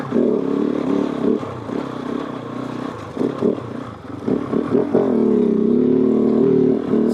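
Kove 450 Rally motorcycle engine revving in second gear, a steady close-up drone that dips and surges midway with some clatter before holding a loud, even note to the end.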